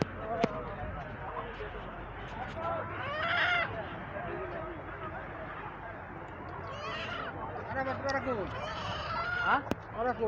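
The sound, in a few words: chickens and roosters at a poultry market in Saudi Arabia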